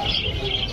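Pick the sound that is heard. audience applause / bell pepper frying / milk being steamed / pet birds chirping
pet birds chirping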